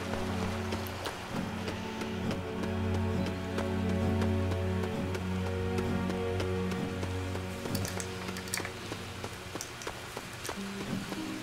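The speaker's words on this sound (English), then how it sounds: "Even the rain effects look better than" Rain in the video game Lego The Hobbit, a steady patter of drops heard under sustained, layered background music tones for the whole stretch.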